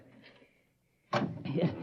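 A door is opened in a radio drama about a tunnel. After a hushed pause it bursts into a short, close, rushing creak and scrape that lasts to the end.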